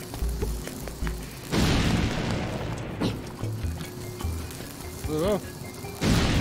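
Bombs blasting things apart in the Zelda Link's Awakening video game, several deep booming explosions spaced a second or two apart, loud and close, with game sound effects and a brief spoken word between them.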